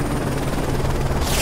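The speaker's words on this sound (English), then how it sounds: "Enemy chopper closing on your position." Enemy helicopter in the Call of Duty Modern Warfare 3 campaign, a dense steady rotor roar with broadband wash filling the mix, loud and continuous throughout.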